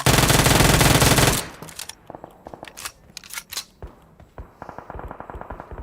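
Gunfire in a video game: a dense, loud burst of rapid automatic fire fills the opening second and a half, then gives way to scattered, sharper single shots and crackling pops that continue unevenly to the end.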